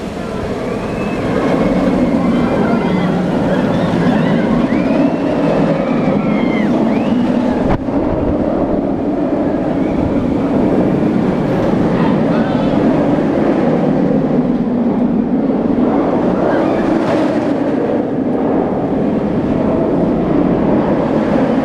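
Front-row ride on the Nemesis roller coaster at Alton Towers: a loud, continuous roar of wheels on track and rushing wind, with swells and a brief jolt partway through, and faint screams blended in.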